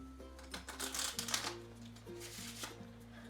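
A deck of playing cards gets a brief shuffle, with soft papery riffling bursts close by over steady background music.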